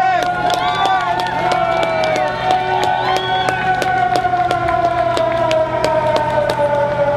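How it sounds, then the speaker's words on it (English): A civil defense siren sounds its 12 noon test in San Francisco, a loud sustained wail that slowly falls in pitch, with regular sharp ticks and a murmuring outdoor crowd underneath. "With our 12 noon siren"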